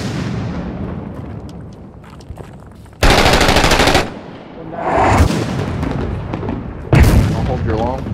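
Heavy gunfire and mortar blasts in the video game Six Days in Fallujah, with bursts of loud automatic fire and booming impacts in a steady rumbling background, and several long roaring bursts close by.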